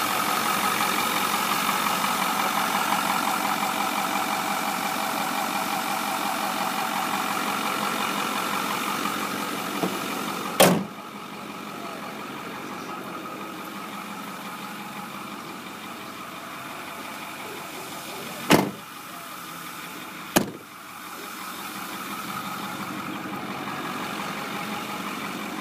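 A 2008 Ford F350 Supercab Powerstroke diesel 4x4 idles steadily nearby with a low, even rumble, broken by a few sharp clicks or knocks.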